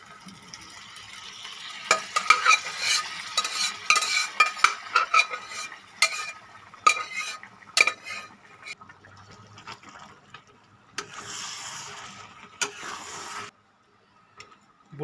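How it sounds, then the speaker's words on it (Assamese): Chana dal being stirred and fried in a pan makes scraping, rattling strokes with a light sizzle, in bursts that pause and resume, close and fairly clear. "বুটৰ দালিখিনি দি মই লৰাই লৈছোঁ"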